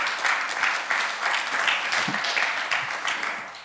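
Audience applause at a DevFest Switzerland 2018 tech conference talk, a sustained roomful of clapping at a steady level from start to finish.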